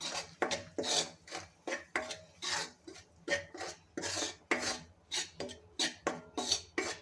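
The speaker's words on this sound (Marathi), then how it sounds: "आता मी गव्हाचं पीठ यामध्ये घालून घेत आहे आणि याला छान असं भाजून घ्यायचं आहे आपल्याला" Wheat flour roasts in hot ghee in a pan as a utensil stirs and scrapes it, producing a rhythmic series of rasping strokes, close and fairly clear, repeating about twice per second.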